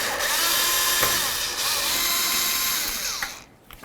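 A power drill whirs steadily, removing the mounting screws of a parking light lamp assembly on a 1988-2000 Chevy C/K1500 pickup, with short pitch shifts as the screws spin out before it stops.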